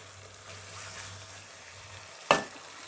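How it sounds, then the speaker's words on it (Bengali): Pork frying and being stirred in a pan for a pork bhuna: a quiet, steady sizzle with soft scraping, then one sharp clank of a utensil against the pan near the end. "মাংসটা আমি 15 মিনিট এইভাবে কষিয়ে নিয়েছি"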